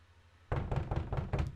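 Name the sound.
knock on a door in a video game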